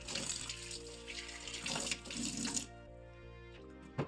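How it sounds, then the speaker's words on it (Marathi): Tap water runs and splashes over a new stone mortar and pestle being washed in a sink, a close, steady gush that stops briefly near the end before a final splash. "पाण्याने आपल्याला परत एकदा हा खलबत्ता धुवून घ्यायचा आहे"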